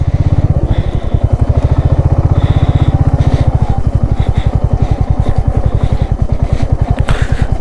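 A motorcycle jolts over a rocky mountain road strewn with large stones in Nagaland, its engine close and loud with a rapid, pulsing thump that stays steady while light rattles and clanks break in over the top.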